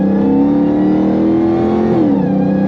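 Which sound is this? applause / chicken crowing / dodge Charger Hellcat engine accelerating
dodge Charger Hellcat engine accelerating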